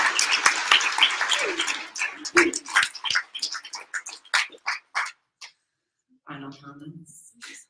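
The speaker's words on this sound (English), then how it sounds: "I would like a round of applause for my students" Audience applause at a panel event, a burst of clapping that thins into scattered individual claps and then stops, with a voice speaking briefly at the end.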